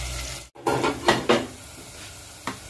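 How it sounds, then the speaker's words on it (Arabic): Onions dropped into hot oil in a pan, giving a few short bursts of sizzling and stirring scrapes after a brief silent gap, fairly close, with no talk. "فوق الزيت وأتركه لحتى ياخد لون خفيف"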